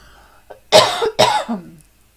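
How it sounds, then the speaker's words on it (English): Two sharp, loud coughs close to the mic, a brief pause between them, with quiet before and after. "I'm gonna cough here."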